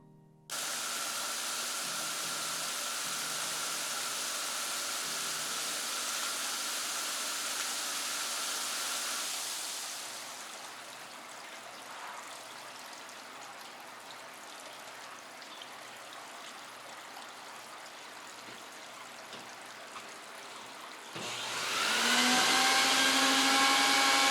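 A steady, loud roar of a suction machine cleaning a Moroccan rug runs for about ten seconds, then drops to a quieter hiss before a louder, higher whine kicks in near the end.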